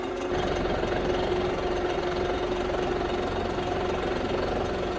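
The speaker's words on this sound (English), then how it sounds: "we're going to raise the loader up to full height" A TYM T754 or John Deere 5075E tractor's engine runs steadily while the front loader is raised to full height, a constant mid-pitched diesel drone with a knocking throb and a faint whine, close and unbroken, no voices.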